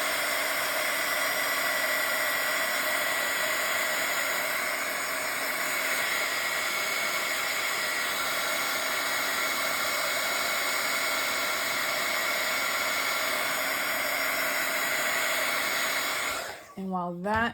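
A hair dryer blows steadily and loudly for about sixteen seconds, drying a freshly painted Bible journal page, then cuts off abruptly at the end.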